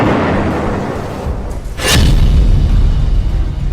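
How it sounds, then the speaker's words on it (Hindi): A deep boom from an Israeli bombing strike in Lebanon, in September 2024, breaks in near two seconds with a brief rushing whoosh, then leaves a low, sustained rumble. "इजराइल ने अब ऑपरेशन नसरल्लाह का वीडियो भी जारी किया है। 27 सितंबर 2024 को इसी बमबारी में नसरल्लाह की मौत हुई थी।"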